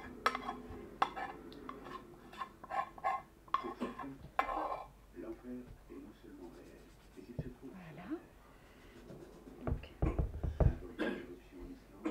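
Chocolate and thick cream being mixed with a utensil in a bowl, giving irregular scraping and clinking taps against the dish, fairly close and soft, while a person talks over it.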